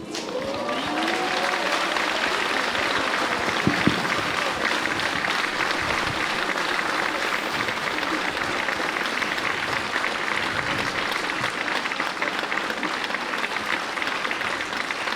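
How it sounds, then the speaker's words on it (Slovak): A large audience at a live indoor event breaks into strong, sustained applause, a dense, even roar of clapping that holds steady for about fifteen seconds. "Naozaj silný potlesk."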